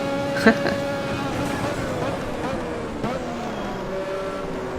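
A 1988 Formula 1 racing car engine in the racing game Automobilista, with whining turbo noise as it brakes and downshifts, one sharp click early on, close and fairly loud.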